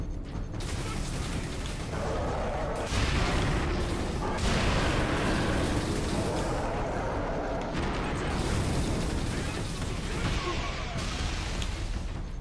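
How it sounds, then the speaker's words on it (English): Explosions and heavy mechanical rumbling roar loudly and continuously in the Space Marine video game, with booming bursts and grinding, creaking noise filling the whole stretch and no clear talk. "None of them died from that explosion?"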